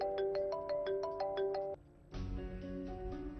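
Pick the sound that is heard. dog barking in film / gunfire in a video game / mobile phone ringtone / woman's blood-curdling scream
mobile phone ringtone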